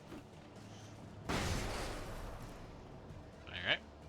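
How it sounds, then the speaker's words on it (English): A flashbang grenade goes off in the video game Alan Wake as a sudden loud burst, followed by a lingering wash of noise that slowly fades, with a brief high chirp near the end. "I'm throwing a flashbang."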